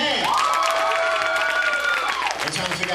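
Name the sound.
congregation clapping hands and cheering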